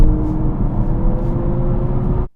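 An Abarth 600e electric car plays its artificial engine sound, a steady synthetic hum with sustained tonal drones over a low rumble, moderately loud and close, cutting off abruptly at the end.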